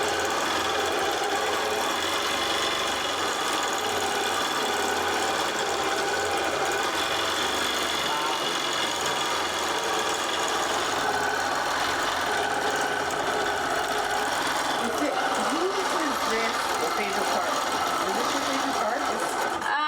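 A long-arm quilting machine stitches at a steady fast mechanical pace, a constant dense whir that runs for the full 20 seconds while people talk nearby.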